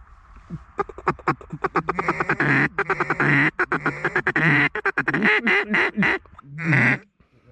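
Mallard drakes quack loudly in a rapid, overlapping series of calls during a duck hunt, close and continuous, with no talking.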